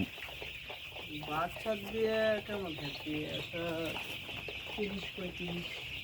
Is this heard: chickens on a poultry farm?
yes